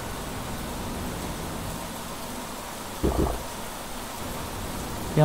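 Steady rain hisses without a break in the video game Planet Crafter, a dense, even wash of noise with a brief louder swell midway.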